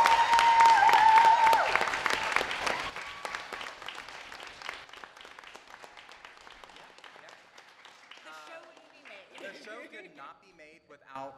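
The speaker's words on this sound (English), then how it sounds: "I'd like to get everyone to give a big round of applause to our production team" Clapping from a convention panel audience, loud at first and thinning out over several seconds, with voices and crowd murmur mixed in.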